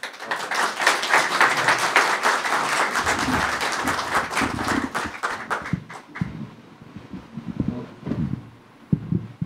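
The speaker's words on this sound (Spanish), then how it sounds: "Sería bueno acogerlo con un aplauso." A church audience applauds loudly to welcome a newly named bishop, a dense clapping that holds for about six seconds and then thins into scattered claps and rustling.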